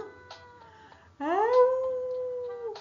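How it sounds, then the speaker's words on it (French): A wolf-like howl sound effect plays during a French story reading about children frightened by a ghost. The single long wail rises and then holds steady, moderately loud, after a quiet opening. "C'est comme le cri du loup."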